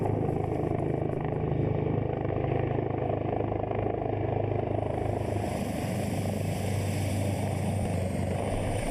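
The presidential helicopter lands at the Albouri Ndiaye stadium, its rotors and engine making a loud, steady, continuous roar that fills the scene without a break.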